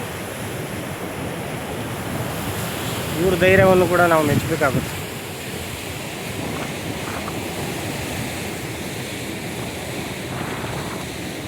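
Ocean surf breaking on the beach at Ullal near Mangalore, a steady broad wash of waves throughout with wind noise on the microphone; a voice speaks briefly near the start.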